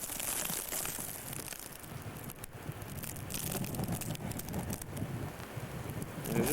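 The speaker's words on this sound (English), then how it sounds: "All there is just wind and lots of snow." Wind blows hard through a snow-covered neighborhood during a 1993 March blizzard, a steady broadband rush with gusty swells and microphone buffeting, moderately loud and without talk.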